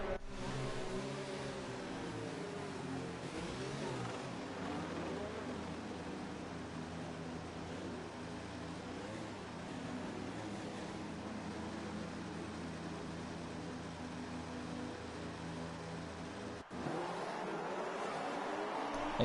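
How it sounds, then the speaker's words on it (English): F1 race cars on the grid of the Singapore Grand Prix in an F1 video game, a sustained, droning high-pitched engine roar with rising and falling revs, ending in a brief abrupt change near the close. "you hear the engine revving"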